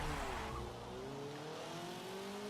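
Race cars launch off the grid at the start of a video game race in Rio de Janeiro, engines revving hard with rising pitch as the pack accelerates together, loud and continuous.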